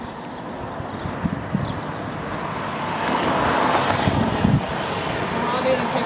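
Busy roadway traffic on Jurupa Road in Jurupa Valley, California, makes a broad rumbling wash that swells louder midway as vehicles pass fairly close, with a voice faintly present.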